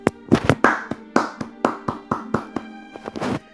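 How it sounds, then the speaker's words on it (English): A single person claps hands in a slow, uneven series of about a dozen sharp, close claps with gaps between them. "Round of applause at this time."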